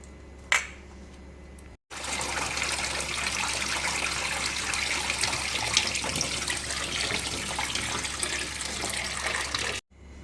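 Chopped banana flower is rinsed in water, most likely from a running tap, a steady broad rush that fills nearly the whole stretch after a brief splash and a short pause.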